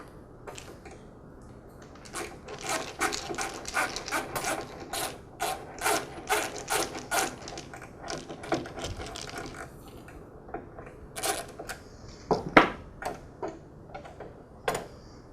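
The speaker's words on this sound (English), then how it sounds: "this will give me access to the guard linkage screw. I'll remove it next." A guard linkage screw comes out of a DeWALT DW708 miter saw with a run of quick ratcheting clicks from a hand tool, in irregular bursts with short pauses, close up and clear.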